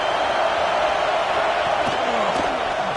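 Steady, dense stadium crowd roar from an American college football video game, Nebraska against Georgia, a continuous wash of loud noise that runs the whole time without a break.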